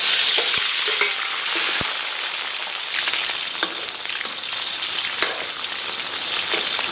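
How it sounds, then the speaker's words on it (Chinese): Chopped scallion and ginger crackle and sizzle in hot oil in a wok, a loud, dense, continuous frying hiss with occasional stirring clicks, close up and with no voices. "接下来咱们给锅里边稍微来点油，油温6、7成热啊，咱们把这个葱姜给它下里边。"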